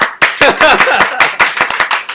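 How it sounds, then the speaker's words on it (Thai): Seminar audience clapping on cue, loud and close, with irregular sharp hand claps and a few overlapping bursts in a short burst. "ปรบมือได้ค่ะ"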